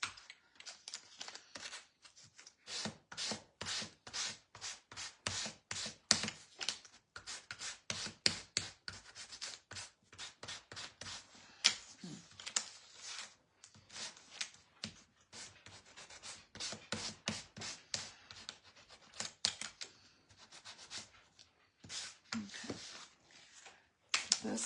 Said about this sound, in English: Well, let me sand these.